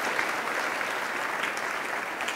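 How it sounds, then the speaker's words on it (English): Audience applause at an awards ceremony, a steady dense clapping that fills the room for a couple of seconds without a break. "That's worth a round of applause."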